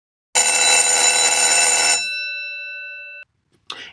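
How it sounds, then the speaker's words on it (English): A loud electric bell rings for under two seconds, its tone lingers and cuts off, then a brief faint sound follows. "Just as the school bell was ringing."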